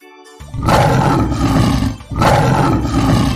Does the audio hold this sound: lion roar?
yes